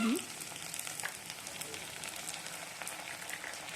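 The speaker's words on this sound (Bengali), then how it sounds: "আদা রসুনটা একটু কষিয়ে নেবো," Ginger and garlic paste sautéing in a pan, giving a gentle even sizzle with light hiss and crackle throughout, quiet and close.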